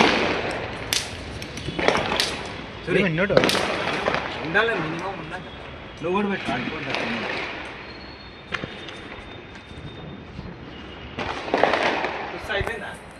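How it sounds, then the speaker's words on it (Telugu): Sharp Diwali firecracker bangs pop at irregular intervals, some near and some distant, while people talk over them throughout. "పక్కన చాలామంది ఇంకా టపాసులు కాలుస్తూనే ఉన్నారు"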